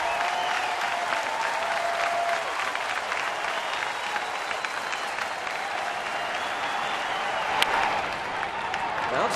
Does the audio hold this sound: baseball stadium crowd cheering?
yes